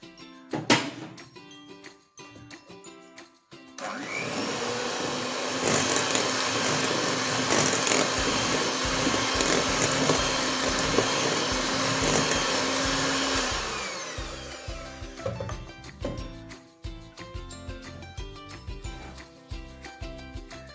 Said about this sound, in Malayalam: അടുത്തത് വാനില എസൻസ്, ഗ്രേറ്റ് ചെയ്ത ചോക്ലേറ്റ് ഇവയും ചേർത്ത് നന്നായി ബീറ്റ് ചെയ്യാം